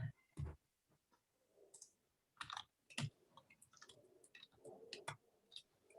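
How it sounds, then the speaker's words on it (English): Fast, uneven clicking of a computer keyboard being typed on hard, right beside the microphone, with scattered sharp key strikes and softer bursts in between, fairly quiet overall. "Sorry if I'm slam typing."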